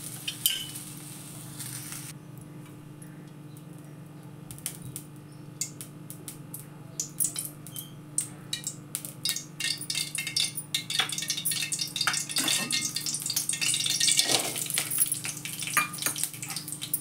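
Onion roasting in a pan crackles and sizzles, starting faint and growing into dense, irregular popping and scraping toward the end, close by with no talk.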